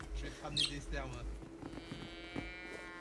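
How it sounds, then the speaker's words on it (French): Cows in the hunting video game The Hunter moo in several long, drawn-out lowing calls, fairly close, with bits of talk and other game noises mixed in. "c'est des vaches."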